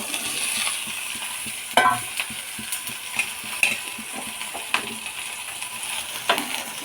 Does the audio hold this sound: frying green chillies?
yes